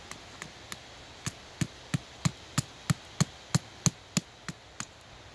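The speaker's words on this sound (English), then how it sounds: "Can you hammer it in all the way?" A hammer strikes a nail about fifteen times in a steady rhythm, sharp close knocks that start light, grow louder in the middle and ease off, with no talk.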